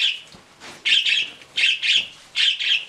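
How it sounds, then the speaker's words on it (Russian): A parrot screeches loudly and repeatedly in a home where sewing is going on, harsh piercing calls in three paired bursts, close and alone with no talk. "Попугай, вы что так орете?"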